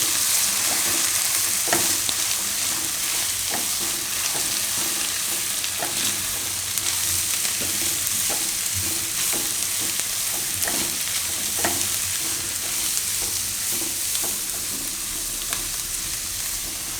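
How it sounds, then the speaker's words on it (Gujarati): Spices, salt, coriander-cumin powder and red and Kashmiri chili, are stirred into rice in a hot pan for dudhi dal pulao, a steady loud sizzle and fry running throughout with repeated scraping strokes of the spoon. "આ બધું આપણે મિક્સ કરી દઈશું."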